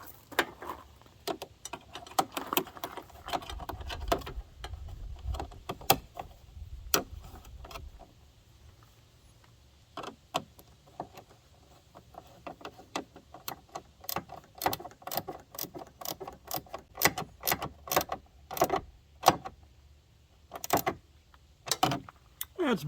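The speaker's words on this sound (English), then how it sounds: "so I went and got a ratcheting wrench." A ratcheting wrench tightens license plate bolts on an ATV in a garage, rapid close clicking in uneven bursts with short pauses between strokes, no talk over it.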